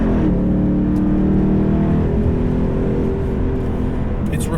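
A 710 hp 2019 Roush Stage 3 Mustang with adaptive exhaust drones loud and close, its engine note holding a rich, shifting harmonic tone that rises and falls as it revs.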